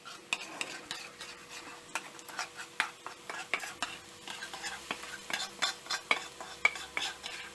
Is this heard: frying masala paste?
yes